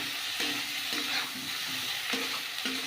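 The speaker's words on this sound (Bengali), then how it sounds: "চিংড়ি মাছটা দিয়ে একটু ভাজলে" A handful of prawns frying in a pan with browned vegetables, a steady close sizzle broken by brief scraping stirs at intervals, with no voices over it.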